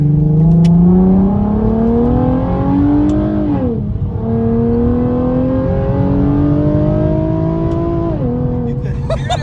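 Nissan 370Z with a Z1 Motorsports cold air intake revs loudly and up close, pitch climbing in two long sweeps with a brief dip between, and a throaty intake roar persisting throughout.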